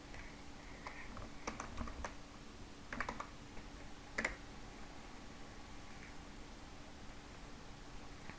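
Quiet computer keyboard typing with a few scattered clusters of key clicks over a steady background hiss, faint and close, no voices.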